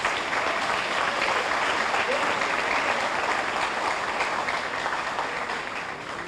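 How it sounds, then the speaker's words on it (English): A crowd claps for families at a musicians' hall of fame induction program, steady thick applause that holds for several seconds and eases slightly toward the end. "So let's clap hands for all the families around here."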